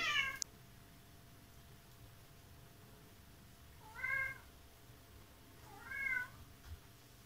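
Two distinct cat meows about two seconds apart, each rising and falling, fairly close against a quiet rural dacha background with a faint cry at the very start.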